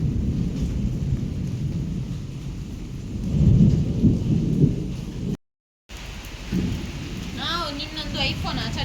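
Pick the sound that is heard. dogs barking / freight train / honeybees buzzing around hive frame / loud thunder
loud thunder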